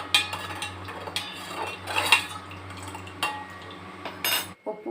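A spoon stirs chili powder and salt into water in a cooking pot for paneer korma, giving close, intermittent metallic scrapes and clinks against the pot.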